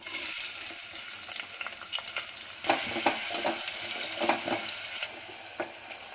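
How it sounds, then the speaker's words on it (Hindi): Onions frying in oil with cloves and black pepper, giving a soft continuous sizzle with intermittent stirring scrapes and clicks, close by, with no talking. "पहले लौंग काला मिर्ची डाली, अब उसमें प्याज डाल रही है।"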